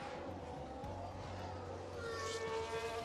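Formula 1 car on a flying lap in the racing game F1 Manager 24, a steady engine drone running throughout, rising into a higher whine near the end as it accelerates down a DRS straight.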